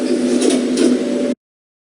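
Doors of a cheap generic modded lift slide open with a single smooth, steady whoosh lasting just over a second, then cut to silence.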